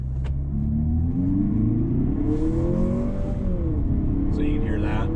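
Engine of a 2020 Lexus NX 300 F Sport revving with active sound control switched off, a steady mid-pitched drone that rises and falls in pitch over a continuous low rumble, close and loud throughout.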